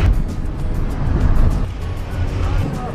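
Car driving along a road toward waterfalls near Shifen, Taiwan, a loud continuous rumble of engine and road noise from inside the vehicle.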